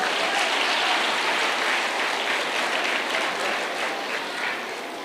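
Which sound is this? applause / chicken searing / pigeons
applause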